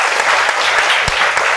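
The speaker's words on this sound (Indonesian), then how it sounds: "Kalian luar biasa, tepuk tangan dong." Studio audience applause at an Indonesian talk show taping with students in the audience, a dense, steady burst of clapping filling the whole short stretch at a fairly loud level.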